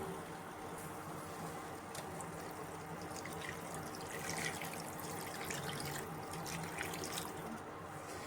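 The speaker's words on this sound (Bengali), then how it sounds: "তো এবারে এটাতে আমি দিয়ে দেব প্রয়োজন অনুযায়ী জল।" Water poured into simmering bata fish masala in a pan, a steady faint trickle and splash that runs continuously for several seconds with no voices.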